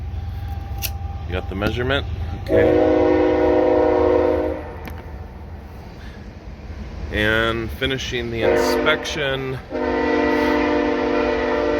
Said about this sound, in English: Sorry for the train. We live close to the trains.